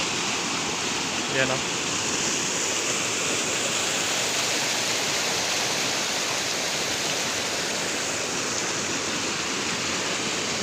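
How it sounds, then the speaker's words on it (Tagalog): Strong river current at Barangay Latusan, water flowing down from Hinagbuan, rushing in a steady, loud, broadband roar throughout, with a brief spoken interjection near the start. "Lakas ng current ng tubig dito"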